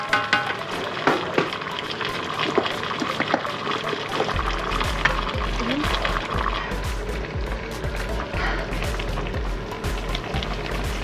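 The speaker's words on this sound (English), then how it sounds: "it's boiling" Chicken guisado bubbles and sizzles in a pot, with irregular pops and crackles over a low steady hum, close and moderately loud.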